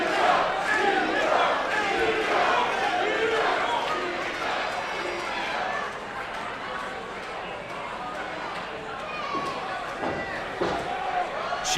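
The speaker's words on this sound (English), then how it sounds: "Eddie leading the crowd in a Chico chant." A wrestling crowd at a Vancouver show chants Chico in loud, rhythmic unison, with shouts and cheering mixed into the dense, sustained noise of the arena.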